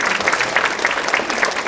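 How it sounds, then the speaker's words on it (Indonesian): Audience applause at an Indonesian year-end Buddhist reflection talk, a dense steady wash of clapping from a full hall with no gaps, loud and close throughout. "mari kita beri tepuk tangan yang meriah sekali"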